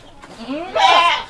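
Goats bleating loudly and insistently at feeding time on a goat farm, several rising, wavering calls close by, building to a louder burst toward the end.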